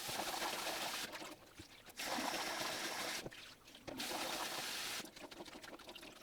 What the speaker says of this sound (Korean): 껍질을 까고 물에 마늘을 씻어 주세요.